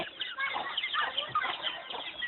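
Farmyard chickens cluck in a quick, continuous chatter of short overlapping calls, close and moderately loud, with no talking.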